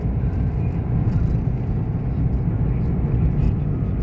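A steady low rumble of vehicles rolling along the New Clark City expressway, with constant engine and tire noise and no clear breaks.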